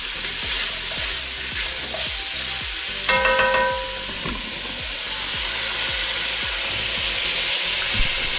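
Carrots, celery and onion sizzle steadily in a frying pan, with a rhythmic run of stirring scrapes throughout and a brief tonal clatter near the middle; no one speaks.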